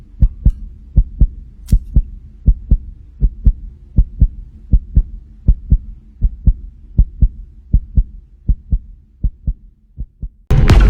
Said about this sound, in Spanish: Ese latido de su espantoso